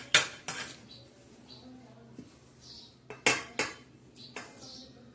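A metal spoon clinks and scrapes against a cooking pan as turmeric is added to onions for a spicy mutton dish, in bright clustered taps with quiet gaps between them and a faint voice in the background.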